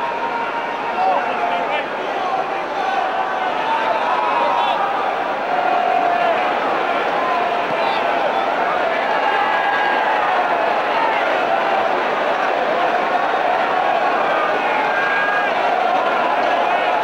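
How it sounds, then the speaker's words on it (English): Capacity stadium crowd in the video game Rugby 08 before kickoff, a continuous dense roar of murmuring and cheering, steady and loud, with a commentator talking over it. "the capacity crowd, breathless, waiting for the match about to get underway"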